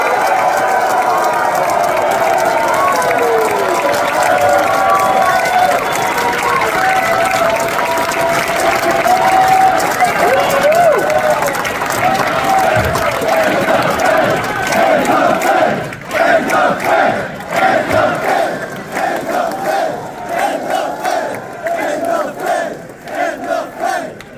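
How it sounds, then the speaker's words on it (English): A large audience at a Ron Paul event applauds and cheers in a sustained, loud roar of clapping and crowd voices that thins into more distinct claps toward the end. "Ladies and gentlemen, please clap your hands for Dr. Ron."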